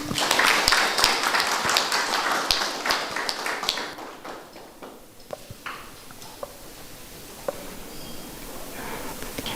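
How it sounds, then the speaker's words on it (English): Applause breaks out at an Air Zimbabwe annual general meeting, a dense patter of clapping that thins out over several seconds into scattered claps. "round of applause"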